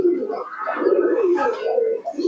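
A pigeon coos close by in a soft, continuous run of throaty rolling notes, a low warbling purr with slight rises and falls.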